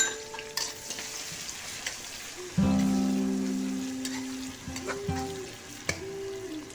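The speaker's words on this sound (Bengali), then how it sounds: "এবার আস্তে আস্তে পেঁয়াজটা লাল হওয়া পর্যন্ত এটাকে ভাজতে থাকবো" Chopped onions frying and being stirred in hot oil with whole garam masala spices, a loud sizzle bursting in as they hit the pan and then settling into a steady crackle with occasional spoon scrapes.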